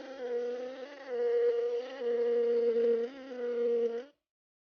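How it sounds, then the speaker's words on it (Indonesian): A steady bee buzz drones on for about four seconds with slight pitch wobbles, close and fairly loud, then stops abruptly. "Lebah merupakan serangga yang sangat istimewa."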